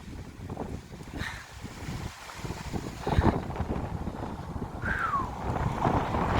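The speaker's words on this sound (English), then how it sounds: "It's a windy Friday indeed." Strong wind buffets the microphone in heavy, rumbling gusts, roaring continuously outdoors with no one speaking.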